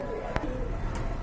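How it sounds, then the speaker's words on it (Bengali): A pair of pigeons gives a brief, soft coo against a constant background murmur, short and close, lasting only about a second. "খুবই সুন্দর কিউট এক জোড়া কবুতর"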